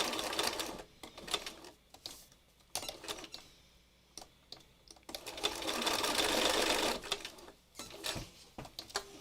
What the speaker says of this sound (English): I'm going to finish stitching both of these last 2 squares